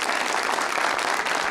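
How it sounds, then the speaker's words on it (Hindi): Dense, steady studio audience applause from a Pakistani TV talk show, many hands clapping loudly and continuously for the full stretch with no speech over it. "बहुत सारी तालियां"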